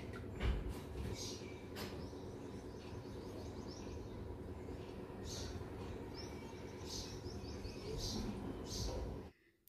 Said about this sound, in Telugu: చూసారుగా పిచ్చుకల అరుపులు